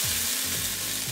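Chicken seasoned with cayenne pepper fries in a pan, a continuous loud sizzle with faint scraping sweeps of stirring repeating every half second or so.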